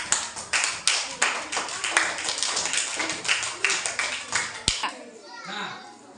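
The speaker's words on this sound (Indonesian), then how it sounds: "Oke, tepuk tangan sama kelompok mereka." A class of schoolchildren applauding a group during a civics lesson, brisk rhythmic clapping with some unevenness that stops abruptly, followed by children's voices chattering.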